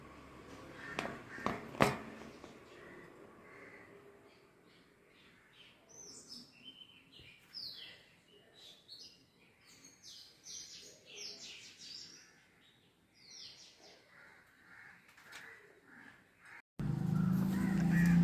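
A pet bird chick and its mother chirp in quick, high-pitched bursts that come in clusters at close range, with handling knocks at the start and a loud rumble at the very end.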